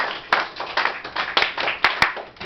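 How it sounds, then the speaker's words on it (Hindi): Students in a classroom clap together, a dense, steady patter of many hands with sharper individual claps poking out, loud and close throughout. "ताली बजाओ भाई जरा।"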